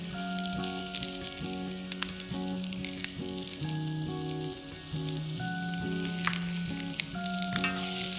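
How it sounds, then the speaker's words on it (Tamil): Onion, ginger and garlic sizzle steadily in hot oil in a pan, a continuous crackling fry with faint background music underneath. "இப்போ இந்த எண்ணெயில வெங்காயம் போட்டுக்கலாம்."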